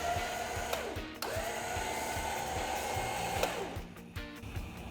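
A Smittybilt XRC 9,500 lb winch motor on a Jeep Wrangler spools cable back in, a steady electric whine with a few brief stops and restarts, close and alone.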